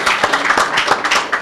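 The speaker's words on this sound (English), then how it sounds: "We could give them a round of applause." Audience applause welcoming home Trinidad and Tobago athletes from the IAAF World Championships: dense, continuous clapping from a crowd, loud and close, with scattered cheers and voices mixed in throughout.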